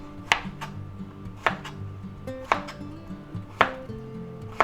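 Knife slicing ingredients for a spicy cucumber, mushroom and chicken stir-fry, five crisp, evenly spaced cuts landing on a board about once a second, each a sharp close knock with faint tonal ringing between strokes, no talk.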